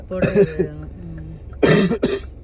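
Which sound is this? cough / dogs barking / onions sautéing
cough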